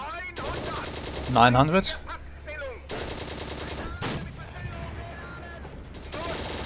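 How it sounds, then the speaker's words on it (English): Anti-aircraft gun fire in the Steel Fury tank game comes as rapid bursts of heavy automatic shots, loud and close in several separate strings, with someone talking over part of it. "That is an anti-aircraft gun. Oh, another one."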